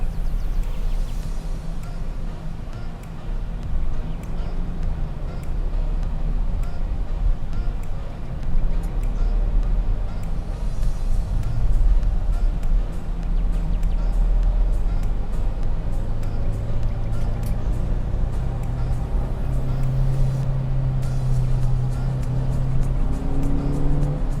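A Toyota Commuter van running on NGV gas accelerating, a steady loud low engine drone heard from inside with rising tonal hum as it gains speed, with faint talk in the cabin.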